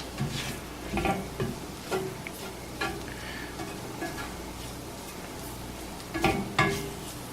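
A spoon stirs a flour roux with chanterelle mushrooms in a pan, making soft scraping strokes at irregular intervals over a constant low sizzle, close by with no talking.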